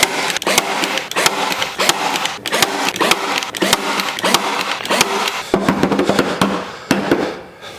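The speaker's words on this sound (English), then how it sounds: "So I do have 1/2-inch staples, and that's what we're going to use instead." Wood being fastened with half-inch staples while building a diecast display case: a loud, close series of sharp clacks and thumps at an irregular rhythm, packed closely over several seconds.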